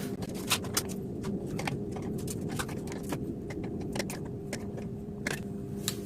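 Bolts are tightened by hand while a 1000W power amplifier is assembled, giving scattered small metallic clicks and ticks over a low, steady background hum, with no talking.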